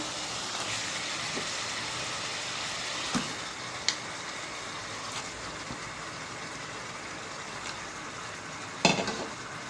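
Chicken pieces frying in a pan for a Bengali-style chicken dish, giving a steady broad sizzle that runs throughout, with a few sharp clinks of a utensil against the pan and stirring scrapes.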